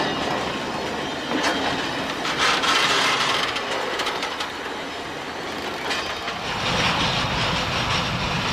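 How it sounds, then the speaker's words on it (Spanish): Freight train wagons rolling through a rail classification yard, with steady loud rumbling, clickety-clack wheel beats and intermittent squeals of wheels on track, all without speech. "Los trenes colectores recogen los distintos vagones que al llegar aquí son orientados a su"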